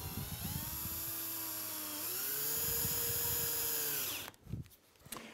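A power drill drives a screw through a hinge into a board, its motor whining steadily and rising in pitch for about four seconds before stopping, with a few faint handling knocks afterward.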